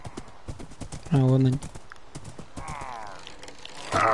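Horse hooves clip-clopping in the Minecraft video game, a short burst of hoofbeats alongside a brief whinny-like tone and game effects, with someone talking over it.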